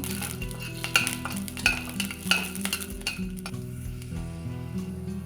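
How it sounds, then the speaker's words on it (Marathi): Half a spoon of ginger and garlic roasting in a little oil, a low sizzle broken by several sharp clinks of a spoon against the pan, with steady tonal background sound throughout. "अर्धा चमचा आलं आणि लसूण चांगलं भाजून घेऊया"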